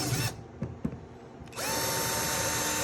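Brief taps and clatter, then a close power drill spins up and drones continuously while drilling through a wooden plaque for mounting deer antlers.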